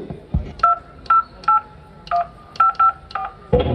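Telephone keypad dialing tones, about ten short evenly spaced beeps, loud and close, each one a clean two-tone pip, followed by a brief final tone, with no talking over them.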